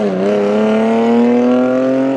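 A BMW car accelerates hard in a street race, its engine note rising steadily in pitch over a couple of seconds, loud and close, with no voices.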